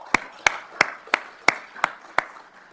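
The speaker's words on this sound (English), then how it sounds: "So just a quick round of applause for our new" A handful of slow, evenly spaced claps ring out at a police department swearing-in ceremony for three new officers, seven sharp distinct hits about a third of a second apart in a quiet room.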